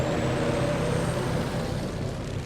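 City traffic of cars and trucks rumbles steadily close by, with a continuous low engine drone, a thin high whine, and a gradual fade as vehicles pass.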